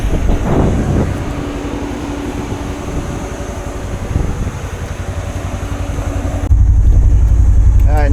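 A farm vehicle rumbles steadily while driving around a Kansas cattle pasture during calving season, the low engine drone constant throughout and growing louder and rougher near the end.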